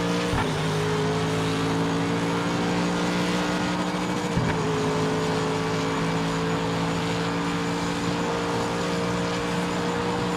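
GTE race cars in the PMR racing video game brake and run on track, producing a loud, steady engine drone with layered harmonic tones and a couple of brief sharp transients, with no talking.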